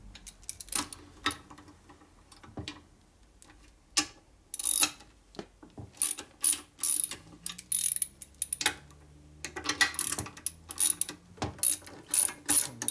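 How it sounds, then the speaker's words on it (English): Ratchet wrench clicking as a bolt is tightened on a 1972 Harley-Davidson Sportster Ironhead engine case, close and loud, in irregular bursts of rapid pawl ticks separated by short pauses. "we tighten this bolt up over here"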